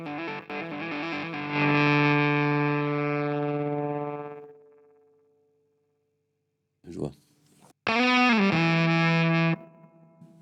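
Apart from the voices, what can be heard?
electric guitar through fuzz gate pedal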